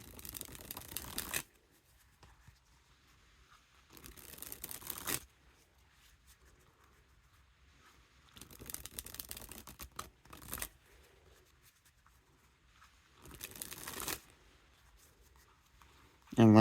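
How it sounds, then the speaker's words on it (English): A deck of survival-themed playing cards dribbled from hand to hand, giving several short fluttering bursts of riffling cards separated by quiet pauses, close and fairly soft. "Now the dribble of cards."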